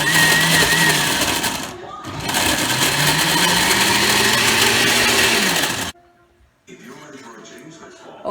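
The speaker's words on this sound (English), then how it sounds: "I'm just gonna blend this now" Loud whirring blender motor runs steadily, briefly dips and pitch shifts as it churns thick coconut and evaporated milk, then cuts off into near quiet with faint background voice.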